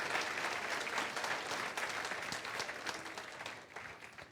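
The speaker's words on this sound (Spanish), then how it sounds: "Dale un fuerte, fuerte, fuerte, fuerte aplauso al Señor" Sustained applause from a church congregation praising God, steady and dense throughout with no talk over it.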